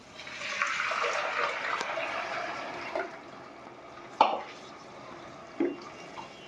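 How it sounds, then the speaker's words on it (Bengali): Boiling water is poured from a cup onto fried rice in a pot for Old Dhaka tehari, a steady gurgling splash that tapers off, followed by a couple of sharp clinks. "আমি এখন দিয়ে দিচ্ছি 3 কাপ চালের জন্য 6 কাপ ফুটানো পানি।"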